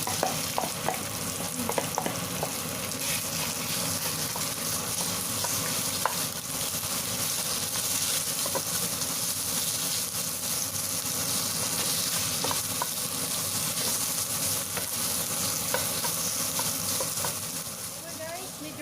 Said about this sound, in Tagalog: Mainit na. Fry na natin.